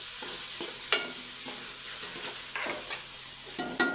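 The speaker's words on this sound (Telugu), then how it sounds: "అర చెంచా జీలకర్ర పొడి కావాల్సిన మసాలా పొడి ఇవి అయితే బాగా మనం ఫ్రై చేసుకుందాం" Coriander powder, cumin powder and masala powder fry in oil in a pan, a faint steady sizzle broken by a few scraping stirs of a spoon.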